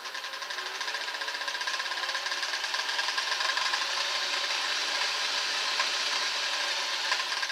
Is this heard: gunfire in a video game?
no